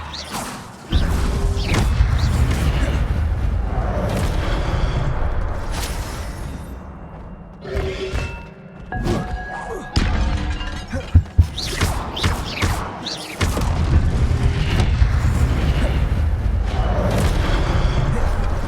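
Spell effects in Hogwarts Legacy on PS5 during combat: loud booms, whooshes and crashing impacts rumble almost continuously, with a brief lull in the middle before the blasts resume.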